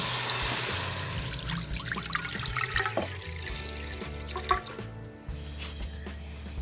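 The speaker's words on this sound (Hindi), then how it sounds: "कढ़ाई में 1 लीटर दूध शामिल कर लूँगी।" One liter of milk splashes and trickles into a wok for a carrot dessert, a close, continuous pour with drips that thins out near the end.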